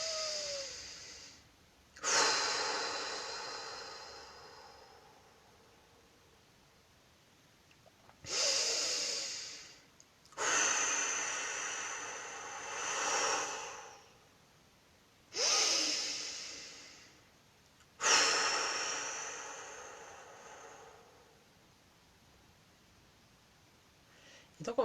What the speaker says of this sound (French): je vous invite à prendre 3 grandes respirations profondes